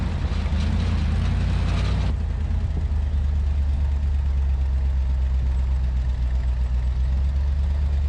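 An old Willys Jeep engine runs with a deep, steady low rumble, louder and rougher at first, then settling into an even idle-like drone with no talk.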